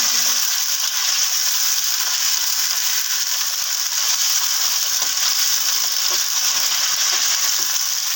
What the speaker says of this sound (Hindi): इसको 5 मिनट तक हम भूनेंगे